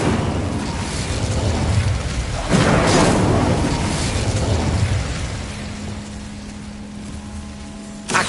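A fire spell bursts out in the Hogwarts Legacy video game, a loud whooshing blast of flame that surges, crackles and roars on for several seconds before easing off.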